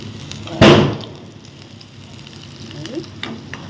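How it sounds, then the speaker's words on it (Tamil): Spring onion fritters fry in hot oil, opening with a loud burst of sizzle that settles into a softer steady bubbling crackle, close and without talking. "ஓகே பொரியட்டும் வெயிட் பண்ணலாம் வெந்துருச்சு நம்ம இப்போ திருப்பி போட்டுக்கலாம்"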